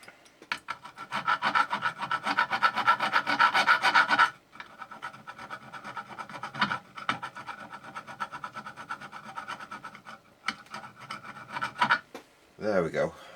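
Metal file scraping corrosion off a part of a Sony ICF-PRO80 radio, heard as close, rapid rasping strokes, dense and loud at first, then lighter scratchy passes with short pauses, ending in a brief handling noise.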